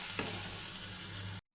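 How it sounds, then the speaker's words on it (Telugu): Green chillies and ginger-garlic paste fry in a hot pan with a steady, close sizzle and a quick stir, then stop abruptly. "అల్లం వెల్లుల్లి పేస్టులోని పచ్చి వాసన పోయేంత వరకు వేయించుకోండి."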